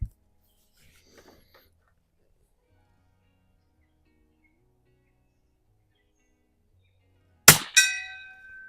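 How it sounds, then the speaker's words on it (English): After a long near-silence, a Mossberg 144 .22 target rifle fires one sharp shot that strikes a steel gong downrange. The gong rings out with a bright metallic clang that fades over about a second. "we'll start her off with a shot at the gong."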